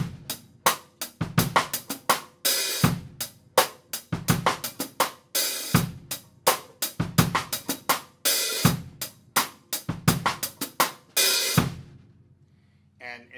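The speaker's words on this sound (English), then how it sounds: "In example three, we're going to add a little bit more syncopation with the snare drum and the kick drum." A drum kit plays a groove with syncopated snare and kick drum and a hi-hat worked by the foot: steady, close, punchy hits for about twelve seconds, then a final ring decays to silence.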